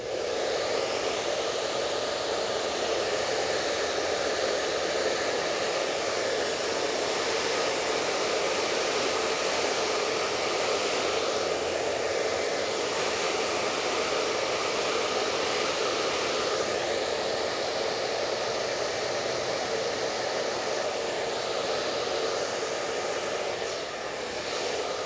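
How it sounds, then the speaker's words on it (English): Blow dryer running continuously at close range while drying hair, a loud steady whooshing roar with slight swells as the airflow is moved around. "When you're not using your blow dryer, make sure that you turn it away from the hair."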